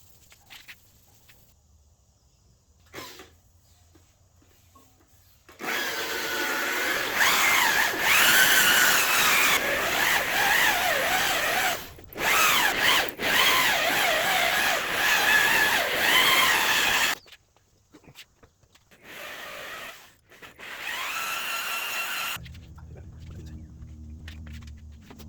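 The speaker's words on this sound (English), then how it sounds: "I'm gonna hit it with some 1000 grit, then I'm gonna hit it with 2000 grit, then we're gonna buff." A power sander and then a buffer work over the fresh paint on a Harley Sportster, whirring in several sustained bursts with short pauses between them, close and fairly loud.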